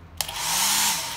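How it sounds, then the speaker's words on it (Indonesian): Hotel hair dryer switching on with a click, then blowing a steady loud broadband whoosh with a low motor hum, close and alone. "May hair dryer dito saan?"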